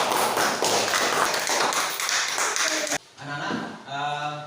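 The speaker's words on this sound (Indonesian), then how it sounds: "Kita kasih aplaus." A classroom of students claps in a dense burst of applause for about three seconds, then a few scattered claps and a voice follow as the clapping dies away.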